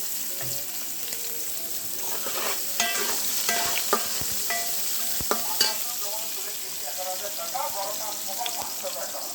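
Onion and green chili stir-fry in a hot pan, with a continuous sizzle broken by repeated sharp scrapes and clacks of a spatula stirring at close range, no talk.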